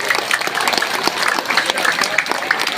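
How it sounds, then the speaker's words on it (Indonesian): A school audience at a religious gathering for a Bandung junior high school's anniversary and Teachers' Day claps in dense, continuous applause, close and lively for the whole moment. "Boleh tepuk tangan untuk komitenya"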